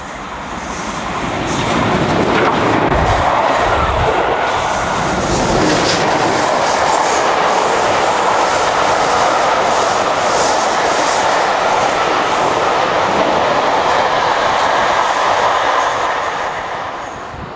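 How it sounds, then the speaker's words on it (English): The steam locomotive Clan Line runs at speed through the New Forest, a loud, continuous rush of rolling wheels and rail noise that swells in and holds steady throughout, with no voices. "On the return, the locomotive was allowed to stretch its legs through the New Forest."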